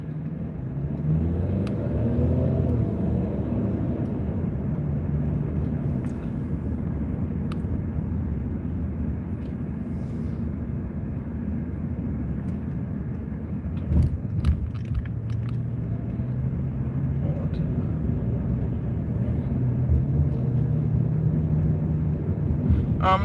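A car drives along a busy road in Virginia, USA, heard from inside the cabin. A constant low engine and tire rumble runs throughout, with faint passing traffic and a few small clicks, and no talking.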